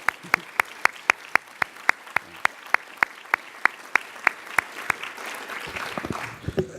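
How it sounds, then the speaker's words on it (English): Applause from an audience at a health care summit, opening with sharp, evenly spaced claps and swelling into a denser burst of clapping at the end. "I'd like to give all of them and Hattie and her staff a big round of applause."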